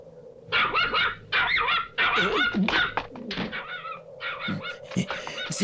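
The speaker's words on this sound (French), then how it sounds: "C'est pas possible, il y a un énorme chien." A large dog in the cartoon Bouba the Little Bear barks loudly and close, in a rapid run of repeated barks and yelps filling the whole stretch with hardly a pause.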